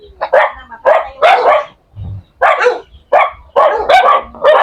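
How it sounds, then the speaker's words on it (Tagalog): A large farm dog barks repeatedly in loud, close bursts, with several sharp barks clustered together and short pauses between them, heard alone without talk. "Ang laki ng aso. Yun yung aso nila."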